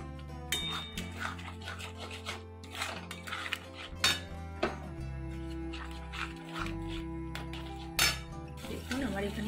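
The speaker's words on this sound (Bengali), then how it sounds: "সামান্য আমি জল দিলাম, দেখুন ভালো করে আমি নেড়ে নেব।" Vegetables stirred in a cooking pan with a little water added for a broccoli and paneer dish, giving repeated scraping and clinking of a utensil against the pan beneath steady background music.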